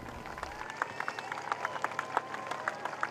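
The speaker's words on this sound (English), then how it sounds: "the Canadian Lancaster emerged at Coningsby to claps and cheers" Crowd clapping and cheering at Coningsby airfield as a Canadian Lancaster bomber emerges, a steady patter of applause from a gathered crowd with scattered sharper claps and a few distant shouts, moderately far and fairly faint.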